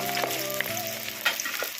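Onions fry in hot oil for an Odisha-style mutton curry, a close hissing sizzle with a few soft clicks over a steady tonal hum in the background.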